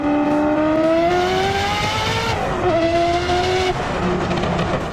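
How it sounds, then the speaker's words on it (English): A Ferrari F40 engine roars loud and close, revving through rising pitch sweeps with a shift partway through and continued acceleration, steady and dominant without any talk. "I know I've already talked about the F40, and I'll talk about it even more because it's my dream car. Here's how it sounds."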